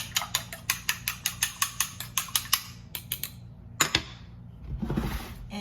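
A fork whisks eggs seasoned with salt and pepper in a bowl for an egg wash, a quick run of about fifteen sharp rhythmic clinks against the bowl followed by a few scattered taps and a soft scrape.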